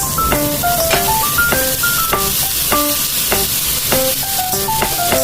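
Green peas and corn being stir-fried in a pan for fried rice, with a steady close sizzle and light stirring scrapes throughout, overlaid by melodic background music.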